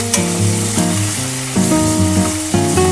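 Dry fish frying in a pan with a steady, loud sizzle and crackle throughout, sitting beneath prominent melodic background music.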